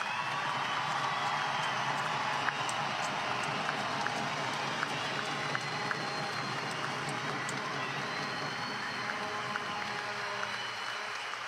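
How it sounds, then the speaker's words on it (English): A stadium crowd at the 2016 United Bowl in Sioux Falls applauds local law enforcement, a steady, even wash of clapping that sounds distant and continues the whole time without any talking. "Give one more huge round of applause for the men and women of Sioux Falls and the surrounding area law enforcement."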